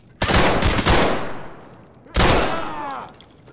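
Two loud, close shotgun blasts in Escape From Tarkov, about two seconds apart, each an abrupt crack followed by a long ringing decay.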